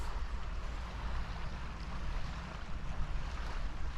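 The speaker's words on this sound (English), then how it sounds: "I think it's the wind across the lake or reservoir. And it's lapping on the shore." Wind-driven water lapping against the shore of Carsington Water reservoir in Derbyshire, heard as a steady, even wash with a low rumble of wind buffeting the microphone and no voices.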